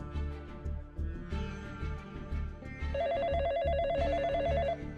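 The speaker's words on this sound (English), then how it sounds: "I hear a phone ringing." A telephone rings in a computer game, starting as muffled repeating tones under game music and then a loud, warbling electronic trill that pulses rapidly for about two seconds near the end, with no voices.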